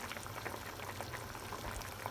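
Thick quince jam bubbles and pops steadily in a pot, a continuous close simmering sound with small irregular bursts.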